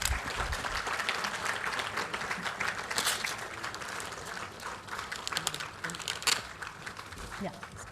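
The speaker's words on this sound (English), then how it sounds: "Can I have a round of applause?" Audience applause at a space industry conference inaugural session, steady crowd clapping throughout with a few sharper louder claps standing out, heard at a moderate distance in a large hall with some background murmur.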